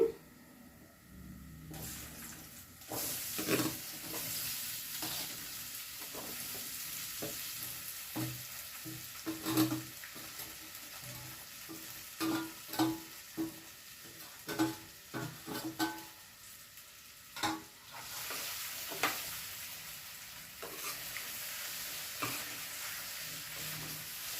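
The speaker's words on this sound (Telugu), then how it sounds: "ఇప్పుడు మనం కట్ చేసి పెట్టుకున్న ఆలూను వేసేస్తున్నాను" Cut potatoes go into a hot pan of tempering for a simple potato fry. A soft, continuous sizzle runs throughout, broken by intermittent scraping stirs, all fairly quiet and close with no talking.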